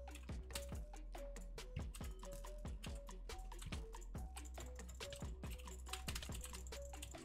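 Rapid mouse jitter clicking during a Minecraft Sky Wars match, a dense run of sharp, close clicks in quick irregular bursts over a steady low hum and faint game tones.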